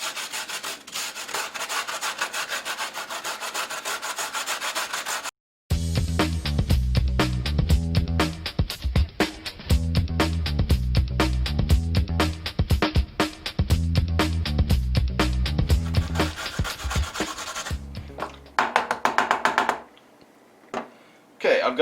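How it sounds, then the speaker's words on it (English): Fresh washed, partly peeled carrots are grated by hand in a rapid, steady series of scraping rasps that continue for many seconds, with a brief pause near the start and a few scattered strokes at the end. "we're going to grate these down until I got 2 cups."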